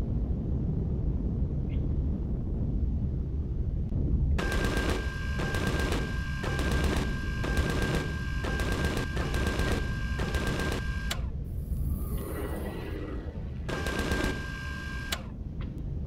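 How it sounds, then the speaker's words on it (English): Rapid automatic gunfire from the video game Empyrion Galactic Survival, fired in a desert setting: two long bursts of evenly spaced shots with a short pause between them over a low ambient rumble. "I was shooting at the villagers"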